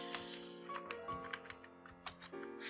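Quick, light keystrokes on a computer keyboard, a steady run of soft clicks over a faint sustained background tone.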